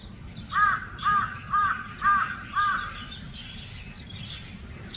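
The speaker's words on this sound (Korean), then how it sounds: "네, 까마귀까지 와서 놀고 있어요." Several crows caw in a bird-filled outdoor spot, five loud rhythmic calls in quick succession, then quieter caws and bird chatter continuing against a steady low background rumble.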